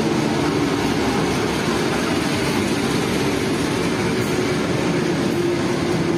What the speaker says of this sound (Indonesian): Ini KA Penataran dari Surabaya lewat Malang tiba di stasiun Blitar.